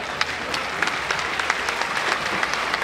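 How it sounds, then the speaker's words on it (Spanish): An outdoor audience at a traditional Purhépecha dance contest in Caltzontzin applauds a community dance group, a dense, lively burst of clapping with sharper individual claps popping out, fairly close and sustained throughout. "Vamos a brindarles otro aplauso para..."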